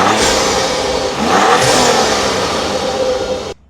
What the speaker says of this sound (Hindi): ये इंजन ना एग्जॉस्ट नोट तो अच्छा देता है लेकिन यहाँ पर भी बहुत बढ़िया साउंड देता है